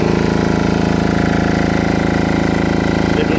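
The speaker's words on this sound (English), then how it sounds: "a diesel welder." A small 200 amp diesel welder with 110 and 220 volt auxiliary outlets runs steadily up close, its engine throbbing in an even, rapid pulse without change.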